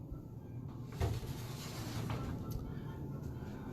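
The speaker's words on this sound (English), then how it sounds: "It has its own little barn door here to give you some privacy." A sliding barn door on the water closet of a Disney's Contemporary Resort double queen hotel room rolls and bumps, with a soft thud near the one-second mark over quiet room tone.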